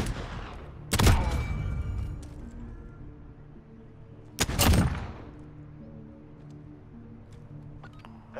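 Two sharp, loud pistol shots in the Modern Warfare video game ring out several seconds apart, each followed by a decaying echo over a quieter background.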